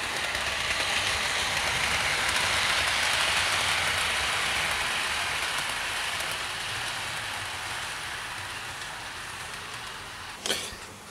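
Steam locomotive Lavine running steadily, a continuous broad hiss and rumble like steam and rolling wheels, fairly even and moderately loud, with a brief sharp knock near the end.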